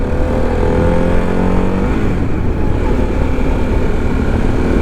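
A 2024 Harley-Davidson CVO motorcycle is ridden at speed in third gear at about 50 mph. A loud, steady engine rumble mixes with rushing wind noise.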